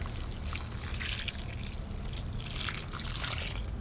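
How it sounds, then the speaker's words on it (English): Rainwater poured over a raised garden bed for fall planting makes a steady close trickle and dribble of liquid that runs on without a break and without talk. "I'm gonna use some of my rainwater to water this very well"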